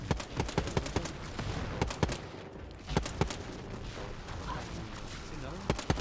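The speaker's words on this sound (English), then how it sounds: "Oh, I can use this pistol." Pistol gunfire in the video game Wolfenstein: Youngblood, a series of sharp shots in irregular bursts over a busy combat background.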